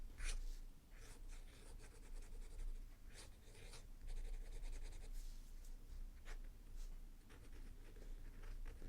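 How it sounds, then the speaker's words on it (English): Tom's Studio pen with a writing tip scratching across paper while writing and drawing, a soft, close series of short scribbling strokes in irregular bursts over quiet background noise. "So if we do a quick writing and drawing test."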